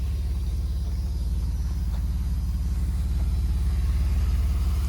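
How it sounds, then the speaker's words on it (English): A Mercedes 190E 2.6 with 58k miles idles on a cool day, its exhaust heard from outside as a steady low rhythmic burble with a slightly lopey pulse, close and alone. "the exhaust is not noisy at all."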